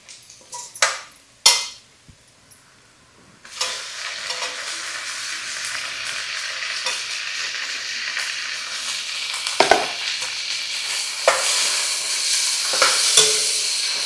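Tomatoes tipped into a pan of frying onions and fenugreek: a couple of sharp metallic knocks, then a strong steady sizzle with scraping stirs and occasional spoon taps against the pan, close and continuous.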